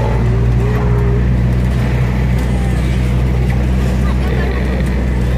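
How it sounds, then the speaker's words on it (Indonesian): Busy road traffic of motorbikes and cars on a road near Bondowoso, East Java: a steady, loud engine rumble with vehicles passing continuously throughout. "Tampak pergerakan kendaraan roda 2 dan roda 4 nih sangat ramai ya."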